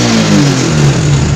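Honda Supra X 125 fuel-injected motorcycle engine revving steadily up and down at close range, a continuous loud drone with shifting pitch and a slight stutter as the throttle is held open.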